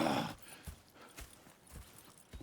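Horses in Red Dead Redemption 2 clip-clop with soft, irregular hoofbeats at a moderate distance, faint against quiet ambience after a brief louder noise at the start.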